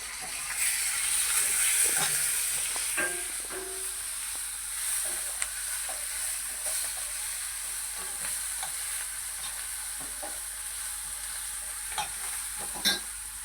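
Leafy greens seasoned with turmeric, coriander-cumin powder and salt fry in a pan with a continuous soft sizzle and hiss. Intermittent stirring scrapes and taps come through, close but fairly quiet, and no one speaks.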